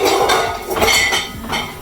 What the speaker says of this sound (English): Woo, all the dishes in the dishwasher.